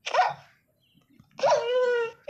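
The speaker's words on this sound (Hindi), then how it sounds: "तो यहाँ पे एक कुत्ता भी है।" Minecraft dog being attacked, two short yelping cries in the game, close and clear with a quiet gap between them.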